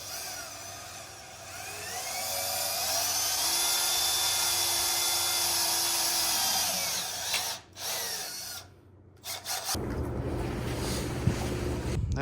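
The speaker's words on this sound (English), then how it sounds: "I'm going to go ahead and drill this first burr out" A power drill bores an inch-deep hole into the burr of a deer antler held by hand, whining steadily for several seconds before stopping in spurts, followed by rough handling noise.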